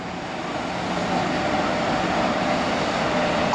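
Train pulling in at platform 4 at Omiya, a broad steady roar of wheels and rail noise that swells slightly as it nears, with no voices.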